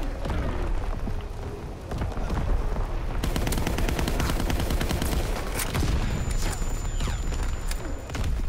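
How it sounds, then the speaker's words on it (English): Enemy artillery barrage in the Call of Duty WWII video game: dense, continuous booming blasts and rapid gunfire pound without letup, loud and close throughout, with a brief shouted voice buried in the din. "Incoming enemy artillery, get to cover."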